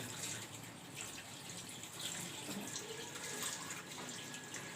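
Water runs from a tap while children rinse off. It sounds as a soft, steady splashing hiss, fairly faint and continuous, with no talking.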